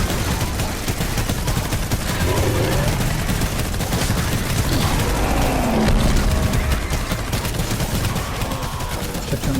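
Hover turrets in Fortnite Save the World fire continuous rapid bursts of automatic gunfire with booming impacts, dense and loud throughout, with no talking.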